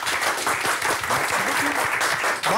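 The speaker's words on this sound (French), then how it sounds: "Bravo Hervé, ça s'applaudit très fort." A French television studio audience breaks into loud, dense applause that holds steady across the whole moment, with faint voices mixed into the clapping.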